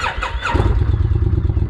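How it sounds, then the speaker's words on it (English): A Kawasaki Vulcan 1600 motorcycle cranks over briefly with a whirring starter, then catches and settles into a loud, close, steady rumbling idle with a rhythmic low pulse. "what I'm gonna do is go ahead and crank the motorcycle"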